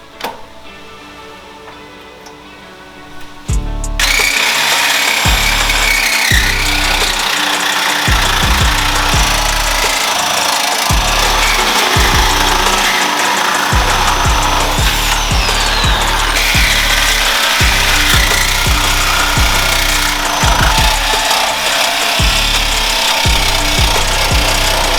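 Power tool cutting through the steel radiator support of a Jeep WJ Grand Cherokee, a loud, close, continuous buzzing cut with rhythmic chattering pulses that starts abruptly after a short quiet lead-in.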